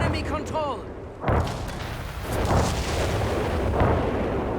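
A strafing run in the strategy game Company of Heroes 3 produces a string of heavy booms and rumbling impacts following an earlier whistling sweep, with a voice talking over the battle noise.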